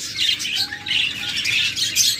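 Several large pied lovebirds in a cage chirp and squawk continuously at close range, a busy overlapping chatter of high calls with no talking.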